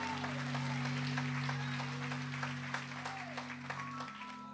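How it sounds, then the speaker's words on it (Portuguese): Congregation applauding during a church service, a soft, steady wash of clapping under sustained organ or keyboard tones, fairly distant. "Aplaude ao Senhor, vai."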